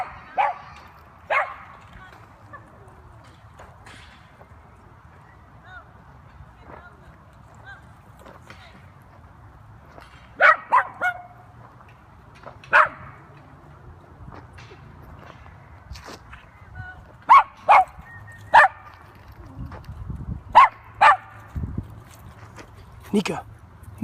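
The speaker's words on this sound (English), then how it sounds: "There are dogs everywhere." Dogs at a busy outdoor dog park, including a miniature schnauzer, let out scattered short barks and yips, some close and sharp, others fainter, over a quiet background, with people's voices and footsteps occasionally heard.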